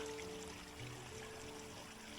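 Creek water runs steadily and fairly faint at the Laurel Fork Creek horse crossing, a continuous close-by flow with a low hum beneath it and no voices.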